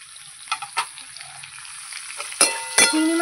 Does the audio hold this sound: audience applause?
no